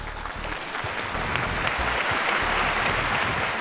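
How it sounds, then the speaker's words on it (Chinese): A studio audience at a Chongqing TV talk show breaks into sustained, even applause to welcome a guest onstage, many hands clapping at a fairly loud, constant level throughout. "好，我们掌声欢迎。"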